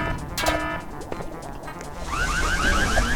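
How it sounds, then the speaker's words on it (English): A car alarm blares inside the Roblox game Super Bomb Survival, its rising, warbling siren tones repeating steadily and loudly over game noise. "Oh crap, my car alarm has came."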